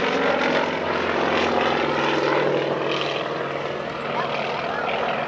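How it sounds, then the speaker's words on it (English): A Yak-55M aerobatic propeller airplane engine drones loudly and steadily during a show, its pitch shifting slightly as the aircraft stalls and maneuvers overhead. "Stalling the airplane once again."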